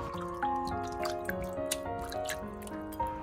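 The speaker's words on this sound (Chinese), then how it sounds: "重新加入适量的清水，清洗掉洋葱表面的盐分" Salted onions rinsed in clean water, soft drips, splashes and squishy handling noises in irregular bursts, set against gentle tonal background music, with no speech.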